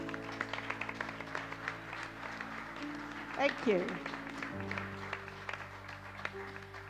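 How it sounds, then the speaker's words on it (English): Light applause from a small gathering at a CD launch livestream, soft scattered clapping in the background with music tones sustained beneath and a voice speaking briefly. "Could we have a round of applause, please?"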